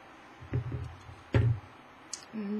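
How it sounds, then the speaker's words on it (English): Flush cutters snip off excess wire on a handmade Heart of Kandrakar pendant, giving a couple of sharp, close clicks in a quiet room. "So we're gonna cut that off."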